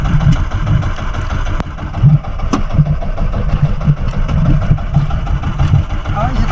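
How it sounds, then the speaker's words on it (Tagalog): An outrigger fishing boat's engine runs steadily at sea during a night spearfishing trip in the Philippines, a mid-pitched, continuous hum with light knocks over it, and someone talks partway through. "Hindi magpatay ng makina."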